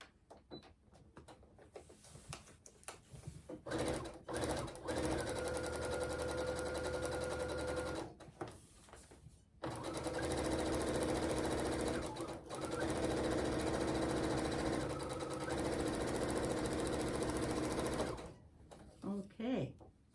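A sewing machine stitching a seam in a quilt block runs in long steady bursts with short stops between them, its even mechanical whir loud and close while someone talks quietly at times.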